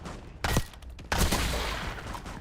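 Two sharp bursts of SMG gunfire in a video game, each a short rapid volley, loud and close, separated by a brief pause, with no talking during the shots.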